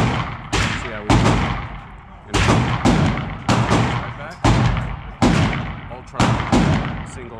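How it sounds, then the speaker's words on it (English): About ten sharp, loud pistol shots from a Phoenix Redback Ultralight single-action pistol fired outdoors, evenly spaced with short pauses, each crack followed by a brief echoing tail. "five rounds on the right square and five rounds on the left"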